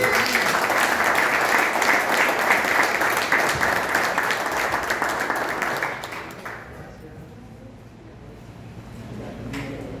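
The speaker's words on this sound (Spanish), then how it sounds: "Dale un aplauso a Rey de Reyes." A crowd applauds loudly and steadily for several seconds, then the clapping dies away into a murmur of room noise.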